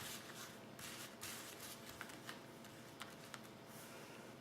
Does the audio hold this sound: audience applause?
no